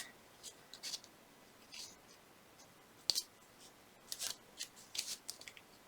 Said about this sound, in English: I'm just going to trim the tape so it's a little more flexible right where those end pieces are